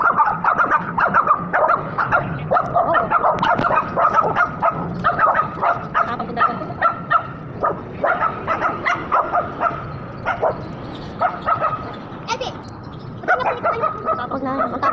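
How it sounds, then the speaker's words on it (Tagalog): Several dogs bark and yip repeatedly in busy, overlapping bursts, loud and close, with some whimpering mixed in. "Tapos na, ang tapang niya na aso na yun."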